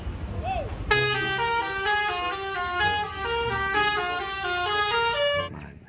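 A double-decker bus blasts its horn in a long, steady, multi-tone honk lasting about five seconds, loud and close, after a brief toy-like chirp at the start.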